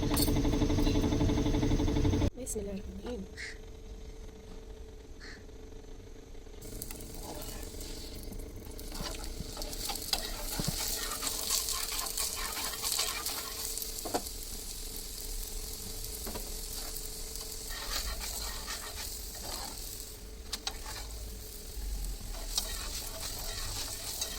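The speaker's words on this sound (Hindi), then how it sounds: "यहाँ पे कुकिंग ऑयल जब सेपरेट हो जाएगा तो हमारी चने की दाल फ्राई हो जाएगी" Chana dal fries in cooking oil in a home kitchen, giving a continuous close sizzle and crackle with scattered stirring clicks, preceded by a brief louder burst before the frying settles into a steady hiss.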